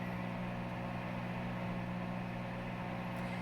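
A microwave oven running while melting cheese on a baked potato, a faint, steady hum with a low droning tone that holds unchanged throughout.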